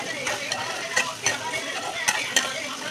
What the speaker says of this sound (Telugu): ఆయిల్లో బాగా కలుపుకోవాలండి